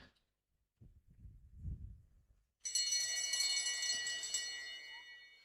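At a winter track cycling race, a bell rings for the final lap, its sustained metallic ringing entering sharply after a few dull low thumps and carrying on until the end.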